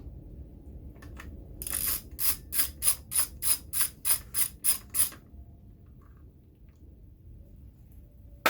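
A ratchet tightens bolts on a 2022 Grom motorcycle, giving about a dozen sharp, evenly spaced clicking bursts close by over roughly three seconds, then quiet.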